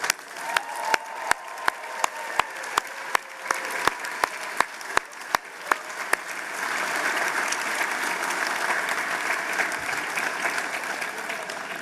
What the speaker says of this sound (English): give yourselves one final round of applause